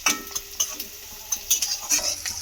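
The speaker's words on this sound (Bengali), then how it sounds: "এবারে এটাকে হালকাভাবে একটু নাড়াচাড়া করে ভালো করে তেলের মধ্যে ভেজে নেব" Onions and other ingredients for an Afghani egg curry fry lightly in oil, a gentle sizzle with quick, sharp clicks of a spatula stirring against the pan, close and without talking.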